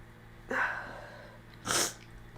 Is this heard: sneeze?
yes